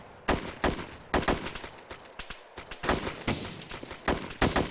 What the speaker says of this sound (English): Watch out. They have heavy machine guns.